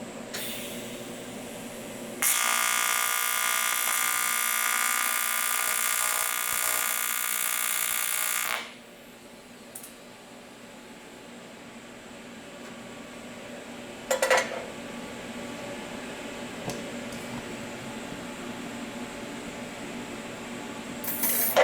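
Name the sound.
TIG welding a tack on aluminum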